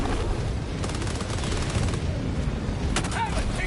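Stalwart machine gun fire in the Helldivers 2 video game rattles as a sustained dense burst, mixed with explosions and combat noise across the whole stretch.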